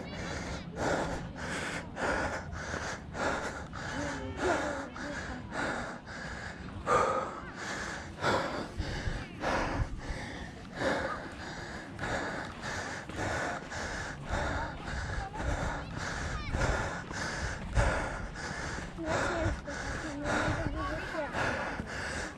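Heavy, rhythmic panting and gasping from someone worn out after running an obstacle race on a beach, with fast repeated breaths throughout and voices speaking between them.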